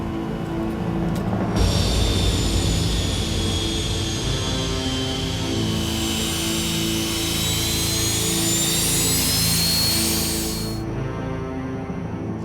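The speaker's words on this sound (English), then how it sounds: "The aircraft is given a once-over before takeoff." A typhoon reconnaissance aircraft's engines roar steadily around takeoff, a loud continuous jet-like drone with a high whine that swells midway and then drops back.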